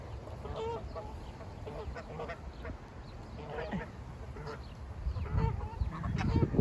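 Ducks resting on a farm's dung-strewn sleeping ground give scattered, fairly faint quacks and honks over a low background murmur.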